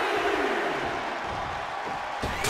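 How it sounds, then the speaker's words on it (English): Arena crowd in the WWE 2K23 wrestling video game during a Undertaker and Shawn Michaels match. A dense, steady roar and cheer holds loud throughout without letting up. "The sound of this crowd is deafening"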